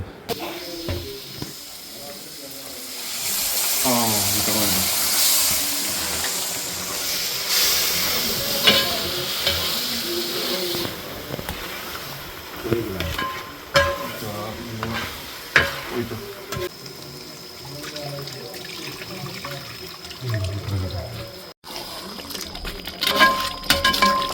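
Sizzling and bubbling as cooked goat meat is stirred into gravy in a pan over a wood-fired stove, with repeated stirring and scraping under intermittent talking from a nearby voice.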